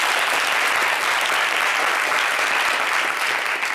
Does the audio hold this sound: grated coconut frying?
no